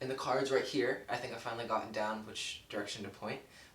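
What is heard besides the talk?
No everyday noise stands out behind the speech.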